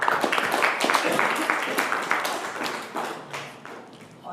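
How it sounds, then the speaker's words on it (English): A meeting audience gives a warm round of applause, a dense wash of clapping that holds steady and then gradually thins out. "Let us give a warm round of applause"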